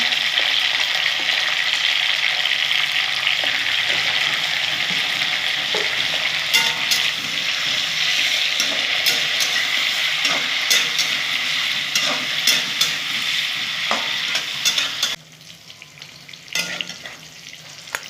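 Potato and eggplant pieces frying in hot oil: a loud, steady, hissing sizzle with occasional clicks of stirring, dropping noticeably quieter near the end.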